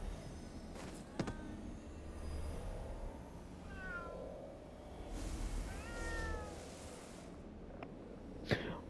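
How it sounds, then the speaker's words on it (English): A cat meows in the Ghostwire Tokyo video game. Two or three short wavering meows rise over a low ambient background, and a couple of sharp clicks are heard between them. "Hey, more cat. Another cat."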